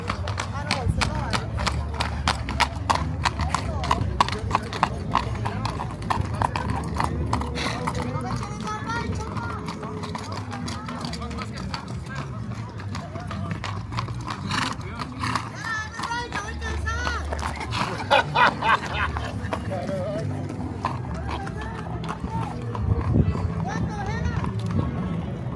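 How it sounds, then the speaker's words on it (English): Horses' hooves clatter along a street during a parade in Cartago, Costa Rica, a dense, continuous clip-clop from several animals under crowd noise and nearby chatter. "More horses coming now"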